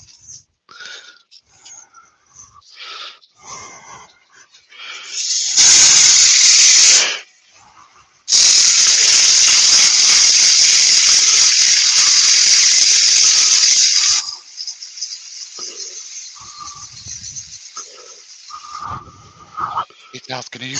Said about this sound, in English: Get that bit sanded.